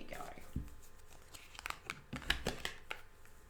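A tarot card pulled from a deck, with crisp papery rustles, snaps and crinkles scattered irregularly, close and moderately loud, while a voice speaks intermittently.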